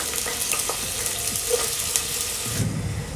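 Onions sizzle in hot ghee for a vegetable biryani, a steady close crackle with a few stirring scrapes and a deeper burst of frying near the end.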